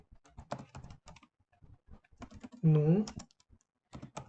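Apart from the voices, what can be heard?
typing Python code on computer keyboard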